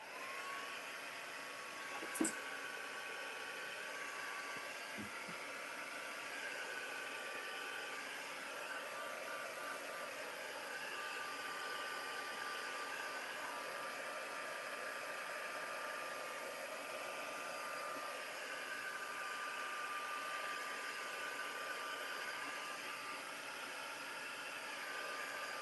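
Hair dryer blowing on green wash paint in a mixed media art piece, a steady faint whooshing hum that runs throughout, with a brief knock or two early on.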